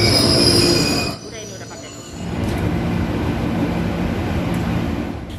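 A KRL commuter train runs on its rails with loud, sharp wheel squeal at the start, then a quieter stretch before a steady rolling rumble takes over, and a brief word is spoken early.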